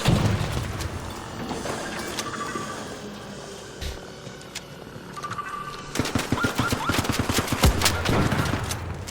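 Gunfire in the video game Arc Raiders, with bursts of rapid shots and sharp impacts, sparse early then denser and louder in the last few seconds, with mechanical clatter between volleys.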